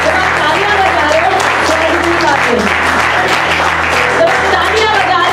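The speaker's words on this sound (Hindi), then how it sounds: "प्रभु की महिमा के लिए जोरदार तालियां बजा रहे हो" Loud, sustained applause from a church congregation fills the whole stretch, dense and steady, with a sustained low musical tone underneath.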